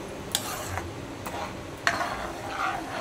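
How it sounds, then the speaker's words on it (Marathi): A pot of tomato and beetroot sauce on a gas stove gives a soft, steady hiss, broken by a few sharp clinks of a spoon stirring against the pan. "आता आपण गॅस चालू करून आता हे शिजवून घेऊया"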